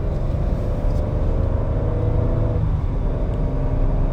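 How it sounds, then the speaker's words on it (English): A 2020 Ford Explorer engine produces a steady, loud low rumble from inside the cabin, holding a constant droning note as the vehicle cruises on light throttle, with no talking. "barely stepping on the gas pedal, I can tell this thing has got a lot of power."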